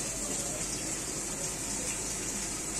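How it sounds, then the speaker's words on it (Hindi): Cold water streams steadily over boiled noodles in a strainer, a constant rushing, hissing pour at moderate volume with no talk over it, during street-style veg noodle preparation. "अब देख सकते हैं, ये पानी डाला जा रहा है ठंडा पानी।"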